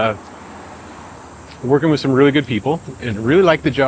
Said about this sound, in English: I don't know if you can hear the cicadas in the background.